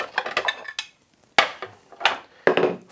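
Several sharp ceramic clinks and knocks of a plate being handled and set down, in short bursts separated by quiet gaps.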